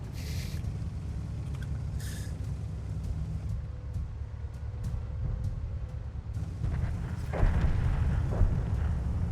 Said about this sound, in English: Now he's shooting me.